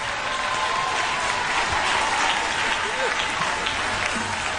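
A church congregation applauds steadily and densely for the whole stretch, a continuous wash of clapping from many hands with faint voices mixed in.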